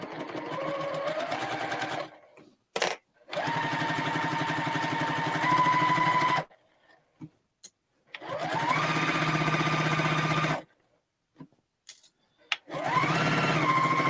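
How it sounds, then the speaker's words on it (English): Sewing machine running a 1/4 inch seam in bursts: three long stitching runs separated by short pauses and small clicks, each run rising in speed with a whining motor tone, close and loud with no talking. "just sew our 1/4 inch seam down that side."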